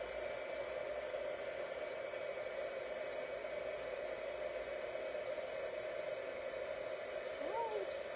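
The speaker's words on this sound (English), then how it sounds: "I'm going to turn on the heat embossing tool." A heat embossing tool blows hot air with a steady, even hiss and hum, close and constant throughout, joined by a brief faint squeak near the end.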